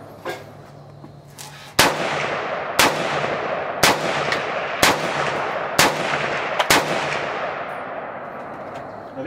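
Gunshots ring out at an outdoor shooting range: six loud, sharp reports spaced about a second apart, each with a trailing echo, over a steady background rumble and no talking.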